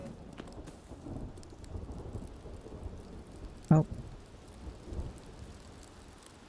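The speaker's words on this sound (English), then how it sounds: "Sounds like a storm is coming." A thunderstorm in the Rising World survival game brings steady rain hiss with a low rumble of thunder swelling mid-way, moderately loud, while a person briefly exclaims.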